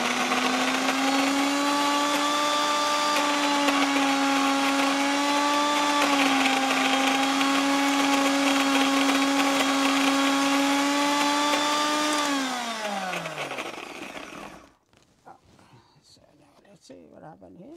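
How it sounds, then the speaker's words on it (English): A mini grinder whirs steadily while grinding curry spices for a beef curry, a loud continuous motor whine that holds for about twelve seconds, then winds down and stops, leaving quiet room sound. "So I'm going to put in a mini grinder, grind it."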